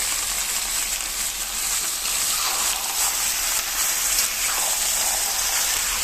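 A kilo of mutton added to hot oil with curry leaves fries in a loud, dense, steady sizzle that crackles continuously throughout, close up and with no speech over it.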